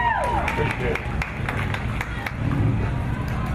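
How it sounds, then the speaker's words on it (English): Crowd applause at an outdoor festival, the St Cloud Chamber of Commerce Eastlake Festival 2018: a steady wash of clapping and crowd noise that runs the whole time, with some voices near the start. "let me have a round of applause for Jason."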